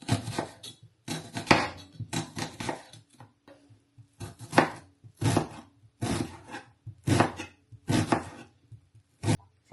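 A knife chops onions on a cutting board in a home kitchen, giving a series of crisp, close taps in irregular short bursts with brief pauses between them and no talking.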